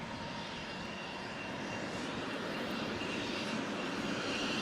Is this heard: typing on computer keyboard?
no